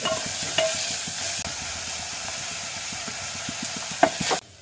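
Masala sizzles and fries steadily in a pan for gobi masala, with repeated scraping stir strokes in an even rhythm; a louder clack near the end before it cuts off.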